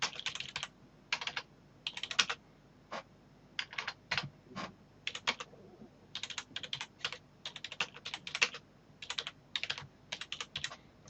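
Typing on a computer keyboard into a textbox, with quick bursts of soft key clicks separated by short pauses, close and quiet, no talk.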